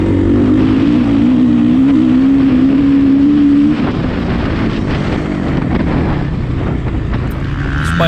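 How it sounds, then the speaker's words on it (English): A Suzuki RMZ450 dirt bike roars at high speed on a sandy trail, its engine droning loud and steady with heavy wind buffeting the microphone, the pitch sagging slightly as the rider eases off midway. "The Suzuki turns so good though, it's a little sketchy in this high speed stuff and the suspension's so stiff"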